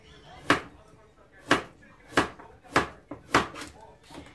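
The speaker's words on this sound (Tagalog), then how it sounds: "magsislice na tayo ng ating veggies" A knife slices fairly hard carrots and other vegetables on a board: six or seven crisp, separate chops at an uneven steady pace, close and clear over quiet background.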